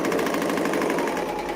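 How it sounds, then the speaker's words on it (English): A serger overlocks the edge of pieced fabric with right sides facing, a steady, fast mechanical whir and rattle running loud and continuous throughout, with no voices. "And serge the edge."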